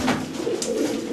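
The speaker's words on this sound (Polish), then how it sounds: "To jest właśnie z nowych gołębi Marcel Sangers." Pigeons coo softly nearby in a low, rolling murmur, a continuous gentle burble with no talking.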